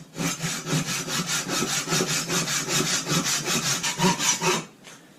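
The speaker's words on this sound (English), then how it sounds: "sawing wood on a slippery old plastic milk crate with no gloves on" Wood being cut with a handsaw while braced on a slippery old plastic milk crate indoors, steady rhythmic back-and-forth rasping strokes, close and loud, continuing for several seconds before stopping abruptly.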